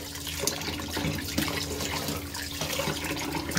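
Tap water runs and splashes steadily into a sink while raw chicken is washed, with light clatter and shifting gurgles throughout.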